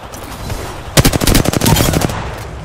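Rapid automatic gunfire in a battle royale video game, a loud close burst of about a dozen shots in quick succession lasting roughly a second.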